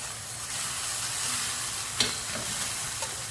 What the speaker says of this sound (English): Now you can hear we're getting the sizzle rather than the bubble.